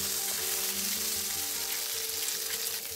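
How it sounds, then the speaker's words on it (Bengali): Katla fish pieces fry in hot oil in a pan while a Bengali milk-based fish dish is cooked, giving a loud, continuous, even sizzle with no voices. "এবার মাছের আরেক পাশটা ভেজে নিতে হবে।"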